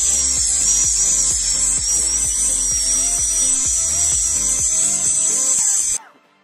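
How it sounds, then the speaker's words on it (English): High-pitched dental drill with a long tapering fissure burr smoothing the walls of a mandibular molar access cavity. The close, steady whine holds for about six seconds under repeated light clicks and scrapes, then cuts off abruptly. "So now I have changed my burr into a long tapering fissure burr. So I'm now going to smoothen the walls"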